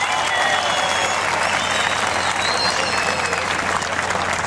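Crowd applause at a bull riding tournament in San José Tejalpa, a loud, dense, continuous roar of clapping from many spectators that holds steady throughout, with no clear break.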